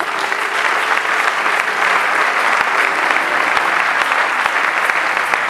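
Congregation clapping in sustained, dense applause, loud and steady throughout with no pause.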